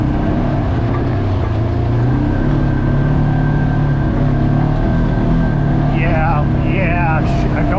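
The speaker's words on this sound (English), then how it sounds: "A little 50-inch RZR Trail 900." Polaris RZR Trail 900 side-by-side, a 50-inch model, rumbles steadily along a forest trail at Willow Creek in the Allegheny, its engine droning continuously up close while a voice speaks over it near the end.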